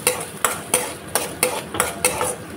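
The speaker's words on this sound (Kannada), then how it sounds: "ಚೆನ್ನಾಗಿ ಸ್ವಲ್ಪ ಫ್ರೈ ಮಾಡ್ಕೊಳ್ತೇನೆ" A medium onion stirred in hot ghee in a pan for crab ghee roast, with rhythmic, evenly spaced metallic scrapes and clinks of a spoon against the pan over a soft background sizzle.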